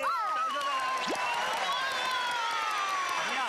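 A crowd of children cheers and claps after a coin magic trick, excited voices and shrieks ringing out over a continuous wash of applause, lively and sustained.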